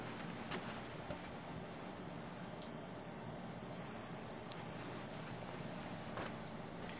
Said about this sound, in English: as an example, I've set up a buzzer.